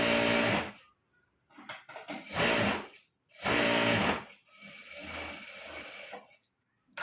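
Sewing machine joining blouse pieces, running in several loud close bursts of steady whirring separated by short pauses, with a quieter final run.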